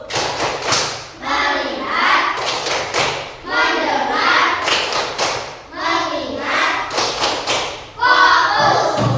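Rhythmic groups of hand claps from a classroom clap game, sharp bursts repeating in sets roughly every two seconds, loud and close, with children's voices mixed in.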